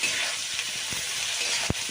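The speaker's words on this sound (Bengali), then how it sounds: "ফোড়নটার একটা সুন্দর গন্ধ বেরোনোর পর আমি পেঁয়াজটা দিয়ে দিবেন" Onions frying in hot oil with whole tempering spices in a kadai make a steady, close sizzle, with a soft stirring knock near the end.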